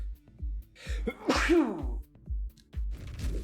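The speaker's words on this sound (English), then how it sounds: "I'm going to sneeze real quick." A single close human sneeze, a sharp burst with a short breathy intake before it, heard over a steady rhythmic pulsing of game music in the background.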